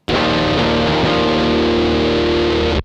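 Electric guitar run through a Gamechanger Audio Plasma Pedal with the Bad Penny off gives one loud, sustained, buzzy distorted chord that rings steadily for nearly three seconds and then cuts off abruptly.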